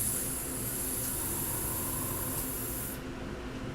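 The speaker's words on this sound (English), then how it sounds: "I'll go ahead and clean out the airbrush" Compressed-air hiss of an airbrush being cleaned out, a steady loud spray held for about three seconds before cutting off abruptly into quieter room noise.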